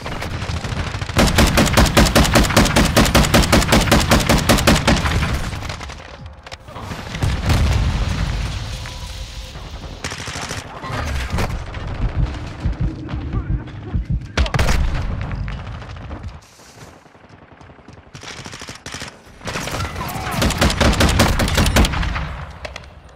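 Video game gunfire crackles in long, rapid automatic bursts, interspersed with heavy booms and shorter volleys, loud and close, with brief pauses between bursts.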